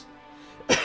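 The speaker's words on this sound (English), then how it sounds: "Didn't mean to have a cough." A single short, sharp cough bursts out after a near-silent moment, close and loud.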